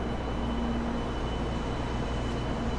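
A steady, close drone of a Shinkansen 700 series 7000 Rail Star train running at speed between Kokura and Hakata, with a continuous low rumble and a faint traction motor whine held through the whole stretch.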